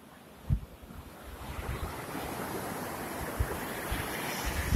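Ocean waves roll onto the shore at Lhok Geulumpang beach near Calang, Aceh Jaya. Wind buffets the microphone over a steady wash of surf, and a few low thumps break through.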